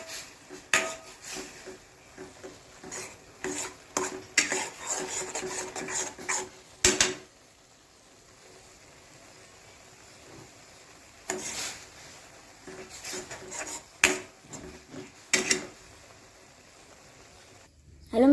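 Maggi noodles stirred in a pan: repeated rasping, scraping strokes of a spoon against the pan come in irregular bursts with quiet pauses between, close and fairly soft, with occasional speech.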